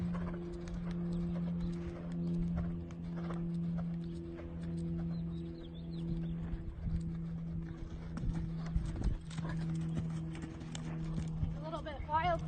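A horse being ridden at a horse show or training session, its hooves clip-clopping in a steady rhythm that shifts slightly during lead changes. A low engine-like hum runs underneath, and a voice talks over it.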